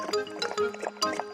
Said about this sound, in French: Elle remplit un bol d'eau bien fraîche.